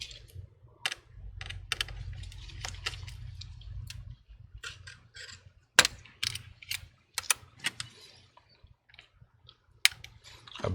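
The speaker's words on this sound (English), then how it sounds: "get the Phillips screwdriver, remove the 3 screws and the bracket" Phillips screwdriver backing out the three screws holding a bracket inside a 9th-generation iPad, heard as close, sparse clicks and ratcheting ticks over a low hum.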